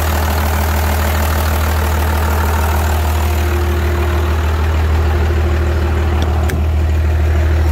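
A 12-valve Cummins diesel truck engine idles steadily and loudly up close after a lift pump install, a continuous low rumble with an even, slightly knocking rhythm.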